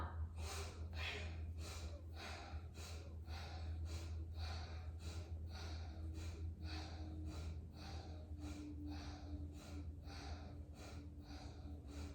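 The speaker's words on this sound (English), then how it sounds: "So we are breathing from the upper lungs when we do this dynamic breathing exercise." A dynamic breathing exercise drawn from the upper lungs produces a long run of quick, evenly spaced, forceful breaths, about two per second, faint and close with no talking.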